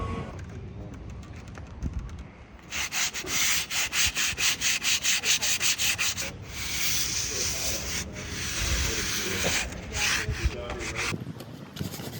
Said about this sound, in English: once I fill that and sand it, it'll look like one solid piece of wood